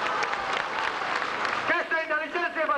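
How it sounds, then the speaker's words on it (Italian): Short burst of applause from a group at a live show, brief clapping quickly overtaken by a voice speaking loudly in the final second. "un applauso, piacere."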